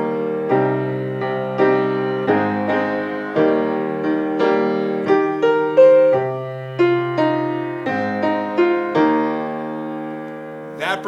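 A solo piano plays a riff, with sustained chords and a repeated melodic line moving in evenly spaced, resonant phrases, close and clear.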